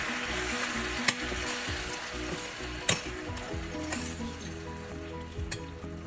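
Tomato curry frying in a pan with coriander powder, giving a steady close sizzle with occasional sharp stirring clicks and scrapes, and no voices.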